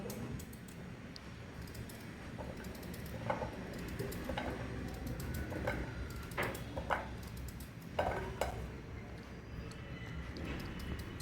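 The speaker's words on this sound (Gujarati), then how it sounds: "આ રીતે આપણે બધા સક્કરિયા સુધારી લઈશું." Sweet potatoes being chopped into pieces with a knife on a board, a steady run of soft, irregular cutting taps and knocks close by over light background noise.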